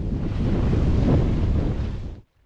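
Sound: ocean waves washing over a boat deck

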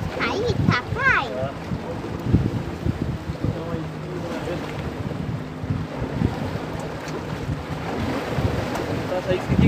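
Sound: rough sea waves and wind

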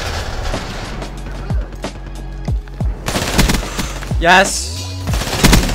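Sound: HLX-4 gunfire in Call of Duty video game

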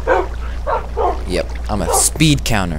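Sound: dogs barking in Minecraft, from a video game

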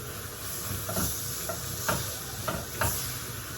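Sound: chopped onion sautéing with tomato paste

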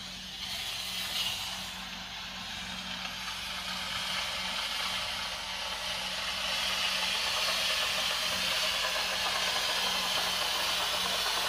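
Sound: HomeRight SteamMachine Plus steamer with bonnet steaming curtains

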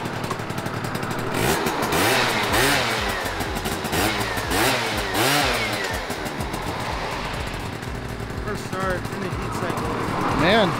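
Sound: Yamaha Zuma beach bike engine running and revving

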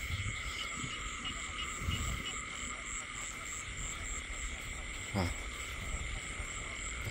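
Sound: frogs croaking in rice field after heavy rain

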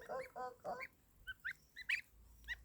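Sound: goslings and geese honking on grass

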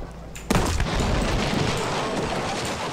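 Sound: gunfire in the video game Battlefield V

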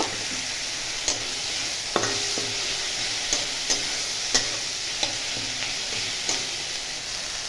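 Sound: chopped tomato frying in a pan for lentil dal

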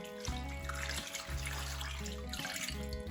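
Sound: water being poured over lamb marrow bones in a bowl

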